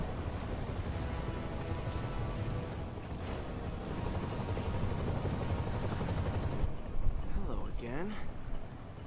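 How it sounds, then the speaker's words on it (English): Helicopter in the Miles Morales Spider-Man video game on PS4, a steady loud rotor drone throughout amid game effects and a few impacts, with voices talking over it. "web the helicopter up"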